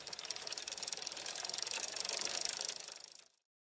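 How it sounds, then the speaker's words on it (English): Bicycle freewheel ticking in a fast, steady ratchet of clicks with a rattly mechanical edge, close and moderately loud, stopping abruptly near the end. "Bicycle."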